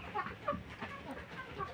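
Fayoumi laying hens in a farm flock clucking and calling in a busy overlapping chorus, fairly close, with soft chatter-like bird noise throughout and no speech.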